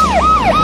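An ambulance siren wails loud and close, its tone sweeping down and snapping back up twice in quick succession with no other sound over it.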